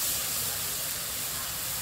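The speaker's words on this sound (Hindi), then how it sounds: "प्याज करीब करीब भून गया है तो अब मैं इसमें डाल दे रही हूँ ये मैंने 3 टमाटर मीडियम साइज के काट के और इसको पीस लिया है।" Pureed tomatoes hitting frying onions in a hot pan, a loud steady hiss of sizzling steam held throughout, with no voices.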